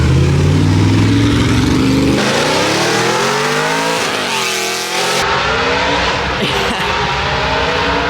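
A Lamborghini Aventador Performante at a hill climb accelerates hard, its engine revving loud and continuous with rising and shifting tones over about eight seconds, staying strong throughout without a break.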